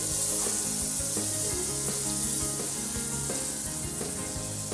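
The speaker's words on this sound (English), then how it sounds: "As the butter melts its way into oblivion and goodness" Butter melting in a hot pan with a slice of bread nearby, giving a steady, close, continuous sizzle with faint crackles and occasional light scrapes, no voices.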